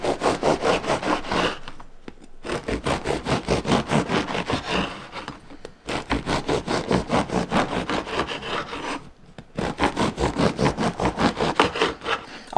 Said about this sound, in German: Schneiden wir mal ein paar Scheibchen ab.